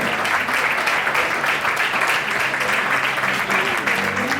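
Strong crowd applause for a women's football player being introduced at an all-star match, dense and continuous clapping with a few faint voices mixed in.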